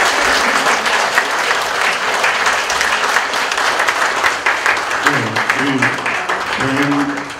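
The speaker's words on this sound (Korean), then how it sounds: "그 정도 박수가 꼭 모자라고 다시 한번 큰 박수 부탁드리겠습니다" Audience applause at a formal address to a Korean-American community gathering, loud sustained clapping that fills the room, with a voice speaking over the tail end.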